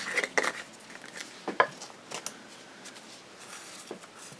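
Glitter is mixed into a cup, giving a flurry of light scraping and tapping clicks, busiest at the start, then sparse soft stirring sounds over a quiet background.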